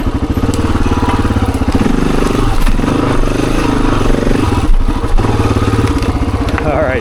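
An XR dirt bike engine thumps steadily just above idle in first gear as it rides over a rough, rocky trail, loud and close with clattering bumps throughout.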